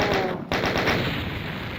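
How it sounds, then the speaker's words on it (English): A chain gun fires in DOOM 1 in a rapid, rhythmic burst of loud, punchy shots, broken by one short gap partway through before the stream of fire resumes. "Even the chain gun is stupidly powerful"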